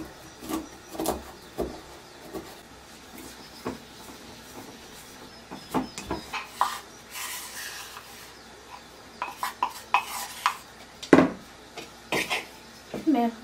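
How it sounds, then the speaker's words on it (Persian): Walnuts being chopped and crushed in a bowl, irregular knocks, taps and scraping clatter that grow busier and louder toward the end, close and without talking. "خرد کردن گردوها"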